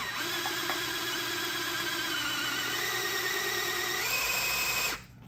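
A power drill, its clutch set very light, whines steadily at high speed while working on a Triumph TR6 to fill the oil filter, running loud and unbroken for about five seconds before cutting off abruptly.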